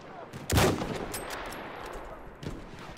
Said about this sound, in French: Une de leurs mitrailleuses.